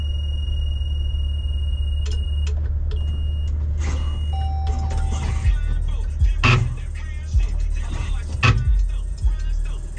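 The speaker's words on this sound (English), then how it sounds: "It's going to make a bunch of noises real quick, a bunch of beeps and buzzes and all that." An adaptive-driving car system boots up with a string of short electronic beeps and tones over a steady low engine hum, with brief clicks and buzzes.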